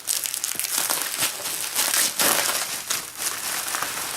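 A heavily taped package is pulled open by hand, with loud, continuous crinkling and crumpling of wrapping and tape close by and a few sharper tearing bursts.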